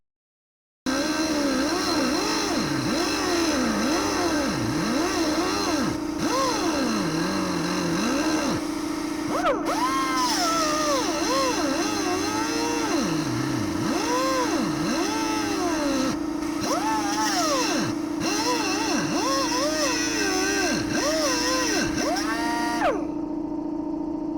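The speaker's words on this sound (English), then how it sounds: "I need to let the compressor catch up. It's not a very big, it's a 20-gallon compressor." A 20-gallon air compressor runs in a garage during Dodge Ram 2500 ball joint work, giving a loud, steady droning hum with wavering tones for about twenty-two seconds before cutting off.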